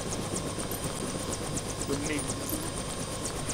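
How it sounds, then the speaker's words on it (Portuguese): Helicopter flying in the LEGO Jurassic World video game, its rotor chopping in a steady, fairly loud rhythm with game background noise, while a voice briefly speaks over it. "Outro helicóptero está vindo!"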